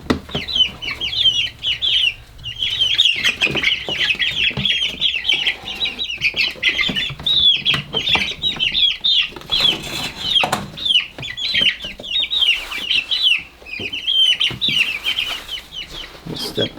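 A flock of backyard chickens clucking and chattering continuously at close range, busy overlapping calls with occasional wing flaps and shuffling, no speech.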